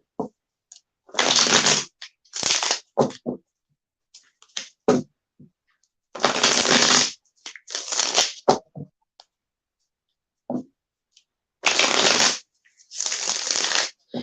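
Loud bursts of playing cards being shuffled, several riffles separated by short pauses, close up with no talking.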